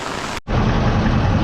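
Dense, roaring rain pours steadily, broken by a brief moment of silence before the downpour resumes at full loudness.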